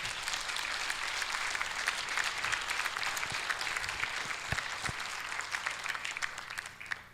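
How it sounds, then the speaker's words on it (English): An audience at a talk by a Vietnam veteran applauds at a moderate level, a steady wash of many hands clapping with a few sharper individual claps standing out. "Give yourselves applause."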